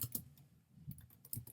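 Quiet typing on a computer keyboard, with a few clustered key clicks at the start, in the middle and near the end, in a hushed room with no talking.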